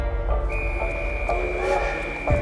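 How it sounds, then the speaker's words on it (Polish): A steam train pulls into a station, its whistle sounding as one sustained, fairly loud tone over a low rumbling background for about two seconds. "Obłoki i para wypełniają peron, kiedy pociąg wtacza się na dworzec."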